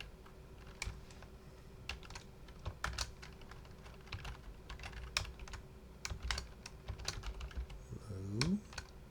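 Computer keyboard typing as code is entered, a steady run of crisp close key clicks and taps with a faint room hum beneath, ending with a brief rising sound near the end.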